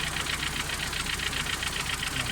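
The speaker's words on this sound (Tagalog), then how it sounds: "palagay ko yung rocker arm yan maluwag maluwag" An engine with a loose, poorly adjusted rocker arm idles steadily, its constant hum broken by a fast, regular ticking knock that runs through the whole stretch at an even level.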